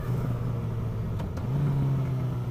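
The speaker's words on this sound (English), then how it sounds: "getting engine braking, quite savage engine braking at that" A motorcycle engine drops a gear with a short shift click, then its engine note settles at higher revs under braking, a steady close-up rumble with no talk.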